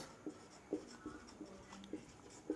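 Faint chalk or marker strokes on a board during a physics lesson, a series of soft, short scratches and taps at an irregular pace.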